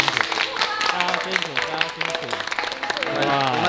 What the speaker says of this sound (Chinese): 我们给钟汉哥一个掌声。